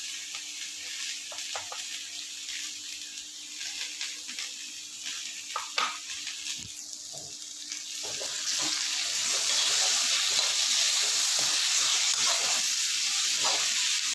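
Onions and tomato masala fry in a pan with a steady sizzle and occasional clatter of stirring; the hiss swells louder and more even partway through.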